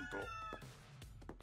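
A fat cat in an anime episode gives a short meow, faint and close, followed by a couple of soft vocal sounds.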